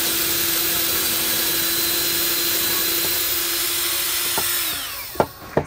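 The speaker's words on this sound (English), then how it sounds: "So I'm going to drill." A power drill whirs steadily at close range into a piece of scrap wood with a 1/4-inch bit, then spins down, followed by a few sharp knocks.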